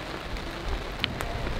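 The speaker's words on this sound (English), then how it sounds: "I wasn't expecting the Sahara to be raining" Rain falling in the Sahara desert, a steady soft patter on surfaces with a few sharper drop ticks, moderately quiet and continuous, with no voices.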